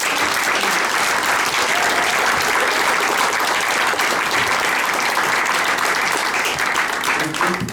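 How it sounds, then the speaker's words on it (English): Audience applause at a 2024 candidate forum for South Maui and Upcountry, dense steady clapping from a crowd lasting the whole clip, loud and uninterrupted. "Let's give a big round of applause for these people."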